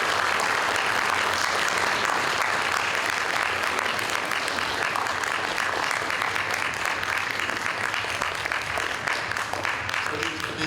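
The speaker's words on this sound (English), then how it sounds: "I think they deserve a big round of applause" A large audience at the Santa Cruz Launchpad 2024 event gives the organizers a long, steady round of applause, with dense clapping that stays at the same level throughout and has no breaks.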